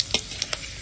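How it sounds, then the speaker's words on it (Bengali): Dried chilli, five-spice and bay leaf crackle in hot mustard oil, a faint steady sizzle with three quick spitting pops in under a second. "ফোড়নটা একটু ভেজে নেব"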